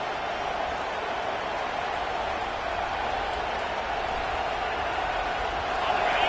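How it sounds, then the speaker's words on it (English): A home stadium crowd at a college football game between Auburn and Miami roars steadily on third down, a dense, unbroken wash of cheering that swells slightly at the end. "Here comes this home crowd as the defense tries to get off the field on third down."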